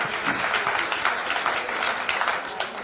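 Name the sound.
applause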